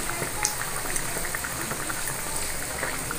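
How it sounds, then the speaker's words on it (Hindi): Bread pakoras deep-frying in hot oil, a steady dense sizzle and crackle with tiny popping bubbles, close and continuous, with no talking. "इसी तरह से हम सब ब्रेड के फ्राई कर लेते हैं ब्रेड के, इस तरह से"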